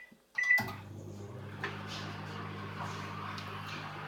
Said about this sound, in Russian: И ставим все это в микроволновку